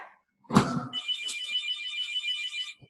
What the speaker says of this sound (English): Let me move the phone. It's ringing.